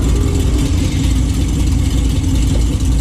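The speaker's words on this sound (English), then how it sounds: "I'm gonna go listen to this car." Loud, close rumble of a Dodge Challenger drag racing car with headers and a tune, idling steadily with a deep, throbbing exhaust note at a drag racing event, no talk over it.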